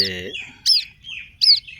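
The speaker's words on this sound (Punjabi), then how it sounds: "ਪ੍ਰਵਾਸੀ ਪੰਛੀਆਂ ਦੇ ਨਾ ਕੁਝ ਬੱਚੇ ਆ" Young migratory birds chirp in short, high, sharp bursts, two clear calls a moment apart, close and fairly loud with faint background noise between.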